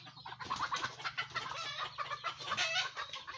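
Young stag chickens cluck and chatter in a quick, overlapping run of calls, fairly close and soft, over a low steady hum, with no one talking.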